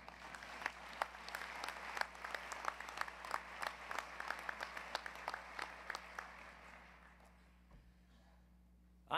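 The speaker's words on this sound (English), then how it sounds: "she deserves a round of applause" Commencement audience at a law school ceremony applauding steadily, a dense wash of clapping with sharp individual claps throughout, sustained for several seconds before fading out near the end.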